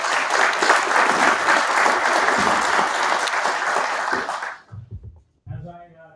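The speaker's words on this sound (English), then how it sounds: "So one more round of applause." Board meeting audience giving a sustained round of applause, dense clapping for about four seconds before fading out, followed by a speaker's voice.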